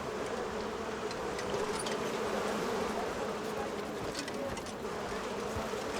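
Bees buzz in the video game Crimson Desert, a steady, dense drone that holds on unbroken throughout, close and even in loudness, with no talk over it.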